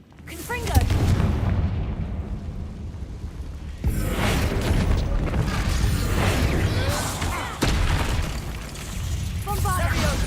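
Confringo blasting spells go off in the Hogwarts Legacy video game, a series of loud booming explosions with crackling bursts that rumble and decay, heard close up over game sounds.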